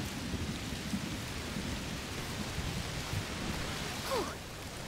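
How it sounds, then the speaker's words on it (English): Heavy rain pours steadily in A Plague Tale: Requiem's heat storm, a dense, constant hiss with low rumbling thunder rolling beneath, a slight swell near the end before the downpour eases. "Must be a heat storm."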